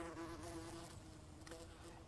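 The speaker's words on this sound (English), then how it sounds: "And that's a bee buzzing round me." A bee hovers close and drones with a steady, continuous buzz outdoors, faint in level but unbroken, with no voices.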